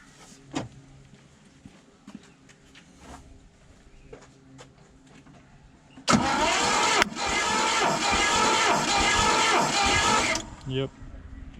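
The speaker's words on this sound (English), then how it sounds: "Can you hear the noise in the engine every now and then?" A Ford 302 Cleveland V8 undergoing a compression test sits quiet with scattered clicks, then cranks loudly and rhythmically for about four seconds before stopping.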